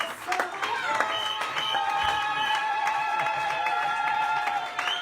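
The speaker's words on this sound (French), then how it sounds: "Can we clap our hands for the Lord?" A church congregation claps their hands for the Lord during worship, a dense, continuous rhythmic clapping mixed with sung or chanted voices and crowd noise throughout.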